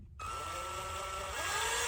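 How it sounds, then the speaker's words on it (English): A power drill whirs steadily at close range after a brief pause, its pitch wavering slightly as it bores holes to flush mount a Lowrance 3-in-1 transducer. "That's gonna drill the holes,"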